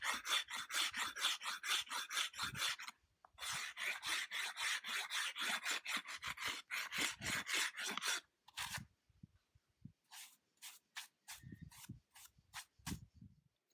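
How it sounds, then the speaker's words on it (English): A very coarse steel file rasps along the edge of carved stone in long, loud back-and-forth strokes, running in steady bursts with short pauses, then shorter, separated scrapes toward the end. "you can actually use a normal file, very strong, this is very coarse file"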